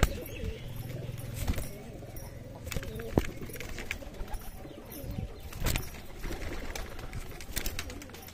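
Roller pigeons coo in low, soft bursts among bird calls, with a few sharper clicks and flutters nearby and faint voices in the background.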